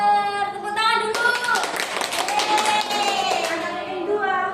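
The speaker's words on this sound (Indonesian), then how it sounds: "Tepuk tangan dulu" A class of students claps hands in a classroom, a burst of quick clapping in the middle, with voices and tonal vocal sounds before and after it.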